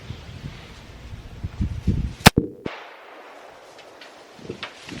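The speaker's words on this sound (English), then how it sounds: "take this one final shot here" A single sharp, loud rifle shot from a .22-250 at a 100-yard range, an abrupt crack followed by a brief echo against quiet outdoor background noise and a few faint handling sounds.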